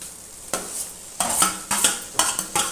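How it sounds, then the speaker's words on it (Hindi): Fried mushroom, onion and capsicum being stirred into masala in a kadai: a spoon scrapes and clanks against the pan in short repeated strokes over a soft sizzle, close and alone. "अब ये मैंने जो मशरूम, प्याज और शिमला मिर्च फ्राई करके रखा है हम इसमें ऐड कर देंगे।"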